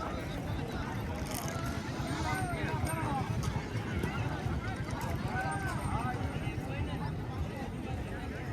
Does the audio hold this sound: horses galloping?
yes